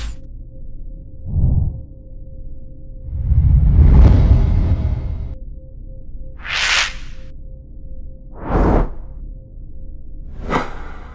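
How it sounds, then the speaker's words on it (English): Whoosh and movement effects from a sound effects library: a short low swoosh, a long heavy rumbling whoosh, then three quick airy swishes in succession, clean and close with no talking. "Whooshes and movement."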